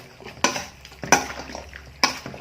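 Sliced onion and tomato are tossed into a Thai pork sausage salad, giving three sharp clattering strikes of utensil against bowl spaced about a second apart, with soft rustling mixing between them.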